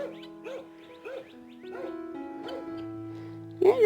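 A Great Pyrenees dog gives a series of short barks and yips at fairly regular intervals, moderately loud, over a faint steady hum, with a louder bark at the end.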